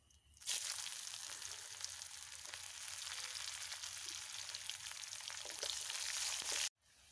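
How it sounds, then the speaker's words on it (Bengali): Onions frying in a pan after cumin seeds, dried red chillies and bay leaf go in for a cauliflower-potato curry, a steady close sizzle that runs for several seconds with no talk and cuts off abruptly near the end. "পেঁয়াজটা ভেজে নেব"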